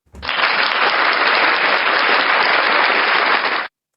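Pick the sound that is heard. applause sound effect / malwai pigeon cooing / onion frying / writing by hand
applause sound effect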